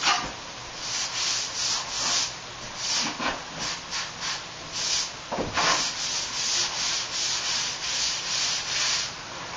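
A sponge rubs over drywall joint compound during a bathroom remodel, producing repeated close, hissing scrub strokes that swell and fade in an uneven rhythm.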